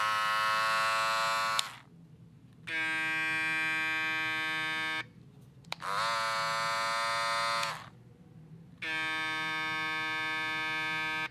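Andis Master electric hair clippers switch on and off in four separate bursts, each a loud, steady buzzing hum lasting a couple of seconds, with short silent gaps between them.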